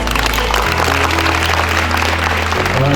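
Audience applause at a World Environment Day ceremony, a dense, loud, continuous wash of clapping with a low electrical hum running underneath.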